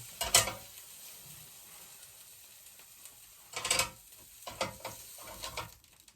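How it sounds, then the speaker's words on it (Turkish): Pastırma sizzling inside a toastie maker, with short bursts of crackling hiss and clicks over a quiet background, close by. "Tost makinesinin içine pastırma koymuştum."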